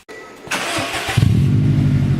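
A 2006 Subaru WRX wagon with an Invidia N1 exhaust that has a leak cranks and fires, then settles into a loud, close, raspy idle.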